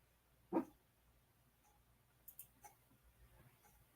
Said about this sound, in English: He's over here barking in his sleep.